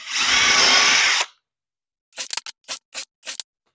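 A cordless drill whirs steadily for about a second while driving into a wood shelf, then stops; after a pause, a series of short, sharp clicks and taps follows, close and clear in a quiet room.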